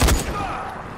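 A single close, loud gunshot from the video game Dying Light, fired at a zombie, bursts out at once and fades into a short rumbling tail.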